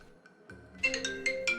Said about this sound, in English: it's my normal wake-up alarm.